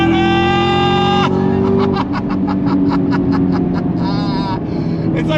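A 2021 Chevrolet Camaro ZL1 1LE's supercharged V8 goes on throttle, a loud close-up roar with a climbing pitch broken by quick upshifts, heard from inside the car.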